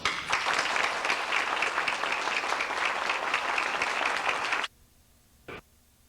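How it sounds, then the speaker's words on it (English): Sustained audience applause at an anniversary gathering for a wildlife refuge, dense and steady for about four and a half seconds before cutting off abruptly into near silence with one brief faint noise. "that man in his letter and his son being here deserves a round of credit and applause"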